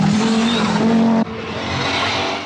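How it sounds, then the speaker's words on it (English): An Opel rally car at the 1982 Manx Rally races along twisting narrow roads, its engine roaring loudly with a sustained tone that drops suddenly midway, then a quieter, fluctuating drone with tire noise. "Malcolm Patrick chases with his Opel"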